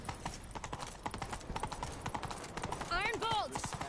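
Rapid hoofbeats of a galloping horse clatter rhythmically in the video game The Witcher 3: Wild Hunt, with voices speaking over them and a horse whinnying near the end.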